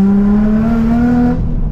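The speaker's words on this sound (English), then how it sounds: "It's silly loud, this car." A bright yellow sports car with a cat-back exhaust, twin power flow back boxes and sports cats revs hard and very loud up close, its exhaust note climbing steadily in pitch before cutting off.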